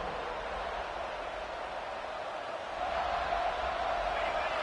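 Stadium crowd noise in the football video game Blitz on PS5, a steady broad roar from a large crowd that swells slightly louder toward the end, heard alone without talk.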